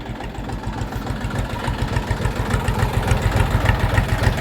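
A Kentavr 244SX tractor's KM385VT diesel engine idles steadily with a low, rhythmic knocking chug, loud and close, with no voices.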